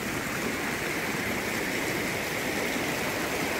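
Steady rush of a flowing stream running full with plenty of water in a rural countryside setting, a continuous broadband wash with no talk over it.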